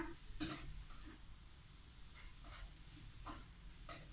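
Vegetarian yellow noodles with mixed vegetables being stir-fried in a pan with no oil: a faint, steady sizzle broken by a few soft scraping stirs of the spatula, with no voices.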